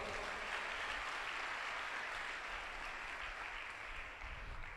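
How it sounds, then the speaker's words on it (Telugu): A church congregation claps together at a Christian ministry meeting in Guntur, a dense, steady wash of applause that holds for the whole stretch, fairly distant and evenly loud, with no speech over it. "కొట్టు చప్పట్లో"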